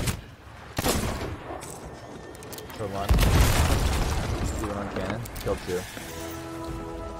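Cannon fire in the pirate game Sea of Thieves, with booming blasts and a loud heavy impact near the middle amid ongoing battle noise, while players talk and laugh over it.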